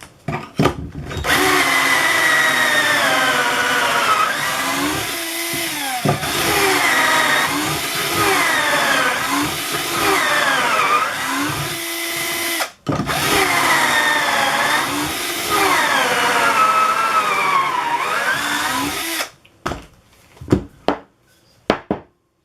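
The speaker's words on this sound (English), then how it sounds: "that's how you do pocket holes" A cordless drill whirs loudly in several long bursts, pitch rising and falling as it bores pocket holes in Douglas fir, with short pauses between and brief clicks at the end.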